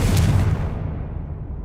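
A Confringo blasting spell explodes in Hogwarts Legacy, a single loud boom at the start with a heavy low rumble that decays over a second and a half.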